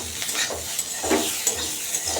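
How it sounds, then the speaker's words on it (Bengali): Potatoes, bitter gourd and onion fry in a pan with a steady sizzle, broken by a few stirring scrapes, close and fairly soft. "আলু করলা আর পেঁয়াজ দিয়ে ভাজা হচ্ছে"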